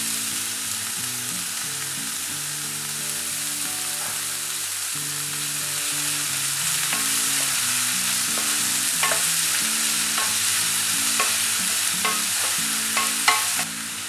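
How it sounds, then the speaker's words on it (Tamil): Onions frying in hot oil with cashew nuts in a pan, stirred steadily: a continuous close sizzle with repeated scraping and clinking strokes from the spoon, growing slightly busier toward the end, no voices. "இந்த டைமில் வெங்காயம் சேர்த்துக்கிறேன்."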